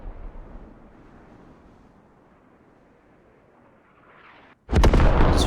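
Mortar impact in a multiplayer shooter game: a long stretch of faint, rumbling battlefield ambience, then a sudden loud explosive blast near the end that stays heavy and roaring.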